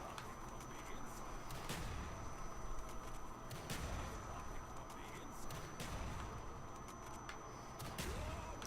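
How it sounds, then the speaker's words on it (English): Grenade launcher firing in Call of Duty, with repeated sharp blasts spread through the clip over a dense, noisy game soundscape; moderately quiet overall. "This grenade launcher is complete doo-doo."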